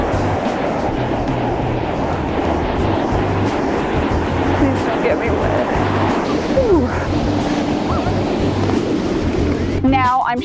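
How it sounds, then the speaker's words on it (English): Ocean waves rolling onto a beach create a steady, loud wash of surf throughout, with a low rumbling undertone and a brief chirping sound near the end. "And here we are at the beach"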